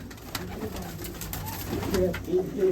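Close, low cooing from Malwai pigeons on a rooftop in soft repeated phrases, growing a little louder toward the end over a constant background hiss.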